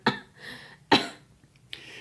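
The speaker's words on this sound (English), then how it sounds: "How long have you had that cough?" Three harsh coughs, close and fairly loud, spaced apart with quiet between them.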